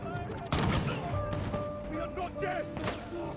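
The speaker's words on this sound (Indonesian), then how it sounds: "Dari kejauhan, Peter membidik si penembak meriam supaya tidak menimbulkan banyak korban." Gunfire in a film battle scene: a few sharp, loud bangs stand out, one early and one late, over a busy background layered with sustained tones.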